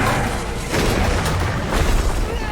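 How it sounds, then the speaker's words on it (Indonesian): A loud, deep grenade explosion booms out in a monster film, with dense rumbling noise swelling in bursts over a couple of seconds and no voices. "menjatuhkan granatnya tepat di mulut Diablos. Akan tetapi ledakan tersebut lagi-lagi tak berdampak apa-apa"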